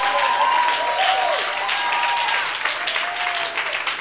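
A church congregation applauding the Lord during worship, sustained dense clapping from a large crowd that fades slightly toward the end, with a voice faintly audible beneath.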